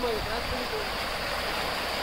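Stream water flows near Kumbakkarai Falls, a steady broadband rush that fills the whole clip at an even level, with faint voices in the background.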